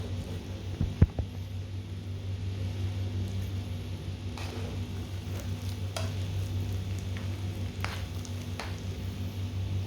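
Sweet glutinous rice cooking in coconut milk is stirred steadily in a pan, with a soft continuous sizzle, occasional scrapes and a low steady hum underneath.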